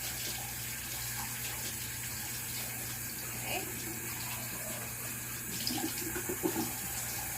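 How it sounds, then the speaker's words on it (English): Hot water runs from a tap in a steady, close, hissing stream, continuous and fairly loud, with a few small splashes near the end and no talk over it. "So you're going to hear running water for a second."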